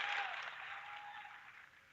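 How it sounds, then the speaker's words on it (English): A round of applause for Zach on a live podcast, a steady wash of clapping from a small group that fades gradually over two seconds, with no talking. "Big round of applause for Zach's new nomad life."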